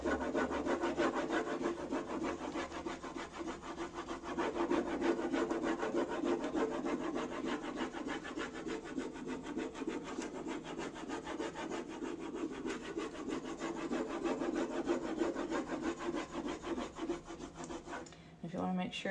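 A transfer rubbed firmly onto a painted wooden table, a steady, continuous scraping rub that runs without pause, close and fairly loud with no voices.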